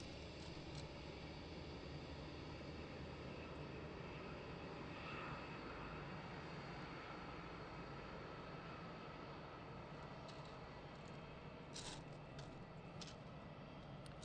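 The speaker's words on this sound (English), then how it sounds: "So 777 taxiing onto 26 left." A Boeing 777 taxiing onto runway 26 left at Gatwick Airport, heard as a steady, broad jet engine roar that holds at an even level throughout, moderately distant with no talk over it.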